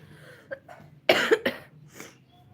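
A few coughs from a person with a cough, one small cough followed by two loud close harsh bursts and a softer trailing one in a quiet room.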